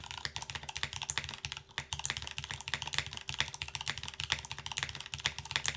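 Rapid, steady typing on a mechanical keyboard with an artisan resin bottom, with dense clacking keystrokes and a deep, thocky tone, close up with no talking.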